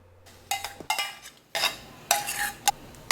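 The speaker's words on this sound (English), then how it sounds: "Now stir everything together" Intermittent scraping and clinking of a spoon stirring sambar with added tur dal in a metal pot, several short strokes with brief pauses, close by.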